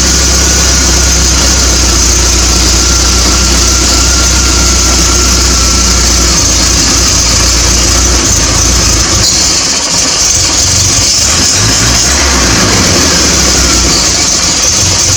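A 1980 Triumph TR7 engine with a little choke runs close by after a water pump repair, a loud, continuous idle rumble with slight shifts in tone midway.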